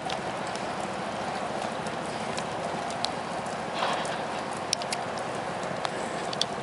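Hooves of a shod warmblood gelding, around 16.2 hands, clip-clop in a steady, close rhythm over a constant noisy background, with occasional sharper knocks.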